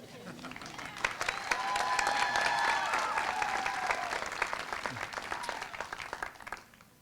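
A school audience of children and adults at an elementary open house claps in a swelling burst of applause that peaks midway and gradually tapers off, with scattered voices mixed in.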